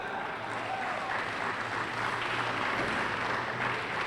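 Wrestling crowd at Farrington High School cheering and applauding steadily in a packed gym during James Gibson vs AJ Styles, a continuous dense roar without breaks and no clear voices on top.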